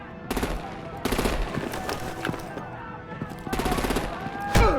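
Rapid gunfire bursts in Batman: The Telltale Series, Enemy Within, several short rattling volleys separated by pauses, with voices and impacts between them and a sharp thud at the end.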